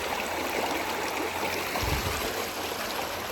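San Pablo Creek flows in December with a continuous, even rush of running water, steady and fairly close, with no voices over it.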